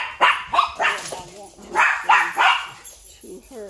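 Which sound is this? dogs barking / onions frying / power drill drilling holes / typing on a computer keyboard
dogs barking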